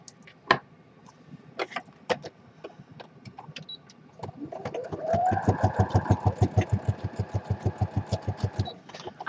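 A home sewing machine sews a straight stitch, starting after a few scattered clicks and handling sounds, then settling into a fast, even rhythm of close mechanical thumps that runs to the end.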